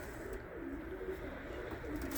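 Pigeons in a loft, some of them white, coo softly in low repeated murmurs, faint and a little distant against quiet room noise.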